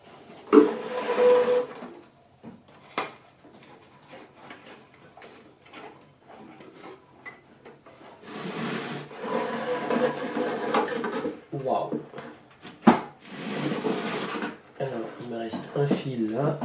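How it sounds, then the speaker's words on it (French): An old 1930s tube radio's metal chassis is worked loose and slid out of its cabinet, with scattered clunks, scrapes and knocks at close range, interspersed with someone speaking. "Normalement, je dois pouvoir sortir le châssis si j'ai bien enlevé toutes les vis."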